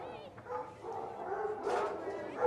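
Hunting hounds bark and yelp at a hound show with the Galway Blazers, several dogs giving overlapping bays and whimpers at moderate distance while a voice talks over them.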